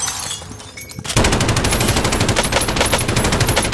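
Rapid automatic gunfire from the video game Warzone erupts after a short quiet moment and continues as a loud, sustained burst of tightly spaced shots.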